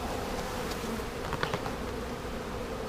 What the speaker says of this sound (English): Bees trying to get away from